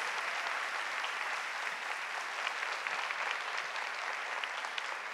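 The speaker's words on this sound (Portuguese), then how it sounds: "Vamos aplaudir com toda a força e com todo o amor a palavra de Deus." A church congregation applauds after the Gospel reading of John 11 during preaching, a thick, continuous wash of many hands clapping at even strength throughout, with no talk over it.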